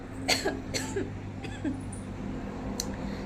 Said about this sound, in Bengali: কাশিও হচ্ছে, একে একে সবার শরীর খারাপ হচ্ছে বর্ষায়